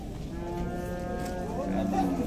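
Cattle at a livestock fair in Dois Riachos, Alagoas, Brazil, giving a loud, drawn-out moo that rises toward its end, close by over a busy crowd background.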